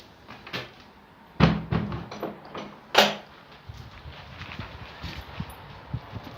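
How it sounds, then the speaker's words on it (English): A church door swings shut with a couple of heavy wooden thuds and a latch clunk, fairly close, followed by quieter shuffling and footsteps in a reverberant space. "We're going to close the door."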